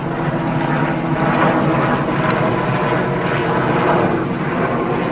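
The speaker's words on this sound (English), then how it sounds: "Chopper's coming over." A helicopter passes overhead with a steady, loud, broadband engine and rotor roar, holding constant throughout without talk.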